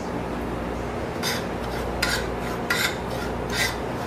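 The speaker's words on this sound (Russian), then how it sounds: "помешивая, обжариваю ее на сухой сковородке" Semolina stirred and toasted in a dry frying pan gives a steady, even scraping rasp close by, with a few slightly louder scrapes as the utensil drags across the pan.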